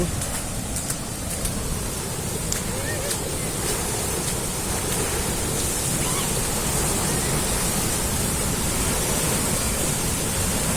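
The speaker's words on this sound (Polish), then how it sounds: "Już woda ładnie wali." Water rushes steadily over the dam overflow on the Złoty Potok stream at Jarnołtówek, a continuous broadband roar holding at an even level throughout, with wind buffeting the microphone.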